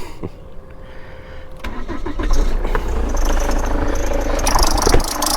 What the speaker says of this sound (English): Let me pop them on, it will start her up.